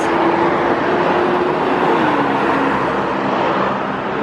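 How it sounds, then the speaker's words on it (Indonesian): Steady engine drone and road rumble from inside a city bus at night in Hong Kong, a low even tone holding throughout with no voices. "Malam-malam nyobain naik bis."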